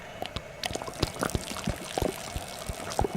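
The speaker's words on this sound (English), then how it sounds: "If I let the oil drip from the bullet hole" Oil dripping from a bullet hole in the game Secret Files 2, a quick irregular run of wet drips and splats, close and moderately loud, with no talk over them.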